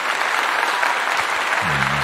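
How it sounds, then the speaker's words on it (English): A crowd gives steady, full applause that carries on without pause, and a low voice hums briefly near the end. "Everybody, I want to give you a clap for being here today"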